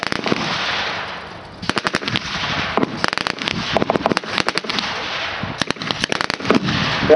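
Bursts of machine gun fire at a battle reenactment with British troops using a Thompson submachine gun and twin Vickers guns, loud rapid rattling volleys in repeated strings with brief pauses between.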